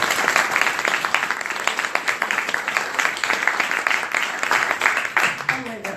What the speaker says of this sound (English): So I'd like you to join me in applauding Laurel Baker